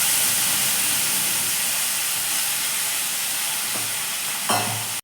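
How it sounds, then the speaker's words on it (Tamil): Cut brinjal with curry leaves sautéing in a pan, a steady loud sizzle and hiss with brief stirring scrapes near the end. "கருவேப்பிலையும் சேர்த்துட்டு லைட்டாக வதக்கிட்டு நம்ம கட் பண்ணி வச்சுருக்க கத்திரிக்காயை சேர்த்துக்கலாம்."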